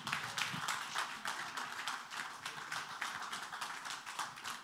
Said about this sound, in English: Please, let's applaud